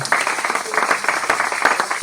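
Church congregation clapping at a worship service, a short burst of scattered, moderately loud applause with uneven rhythm.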